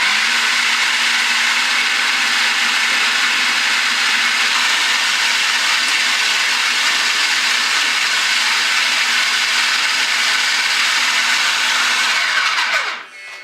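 A food processor minces lamb meatball mixture with a loud, continuous high whirring and churning that holds steady for about twelve seconds before the motor winds down and stops.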